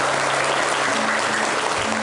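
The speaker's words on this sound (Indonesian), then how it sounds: "Boleh kita kasih tepuk tangan dong buat Kang Faris." Audience applause for a speaker at an Islamic community gathering, steady dense clapping filling the whole two seconds with no talk over it.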